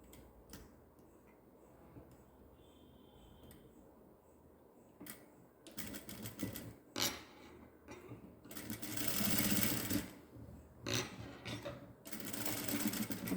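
Sewing machine stitching a newborn baby gown, starting with scattered ticks and clicks, then running in loud rapid bursts of mechanical chatter separated by short pauses.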